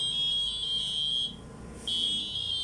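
Pinpointer metal detector emits a steady high electronic tone that shifts in pitch when moved over metal, then drops away briefly and returns; no talking is heard.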